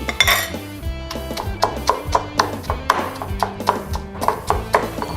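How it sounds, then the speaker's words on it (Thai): A pestle pounds shrimp paste in a mortar for Thai tom som, steady sharp knocks repeating roughly twice a second, close and clear with little talk. "ไปโขกกะปิตามไปเลย"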